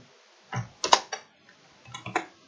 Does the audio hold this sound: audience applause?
no